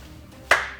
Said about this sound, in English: that was a lame clap